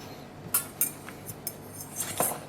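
Spoon stirring turkey stuffing in a bowl for a Thanksgiving side dish, giving a handful of light, scattered clinks and scrapes against the dish, fairly faint and close with quiet pauses between.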